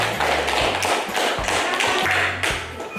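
A classroom audience applauds a student group after its presentation with dense, loud, continuous clapping that rises and falls slightly, with no talk.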